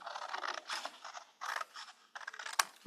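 Scissors snip through paper along a solid line while making a flower bouquet craft, a series of close, crisp cutting strokes in short bursts with brief pauses, ending in one sharp click, with no talking.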